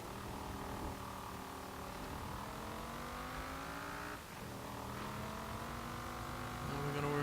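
Engine of a 2013 Cadillac XTS Limousine driven hard on an autocross course in Forza Horizon, a steady droning rev that climbs and shifts repeatedly, with a brief dip mid-run before building again, fairly quiet and continuous.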